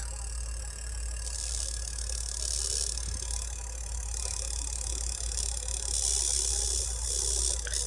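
High-resistance pulse motor driven at high voltage, a steady low hum with a strong rumble and a brighter whirring hiss that rises and falls in waves, running continuously and fairly loud close by.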